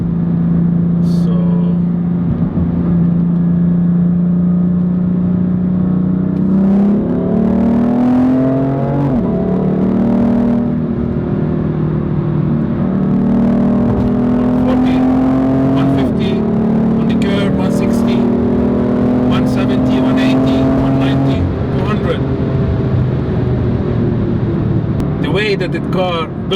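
A BMW M4 Competition with its inline-six engine pulls hard through the gears, a loud, close drone that rises in pitch, drops at each shift and climbs again, with occasional voice over it.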